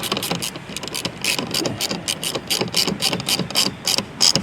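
Socket ratchet clicking rapidly and steadily while tightening bolts into a metal J-clip on a 2023-2024 BMW 230i, close and crisp, in quick repeated bursts.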